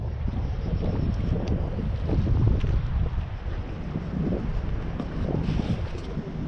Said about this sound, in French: Et le vent s'est levé.